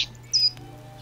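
The bird Cheep Cheep in The Book of Unwritten Tales video game gives a single short, high chirp, heard alone over a quiet low hum.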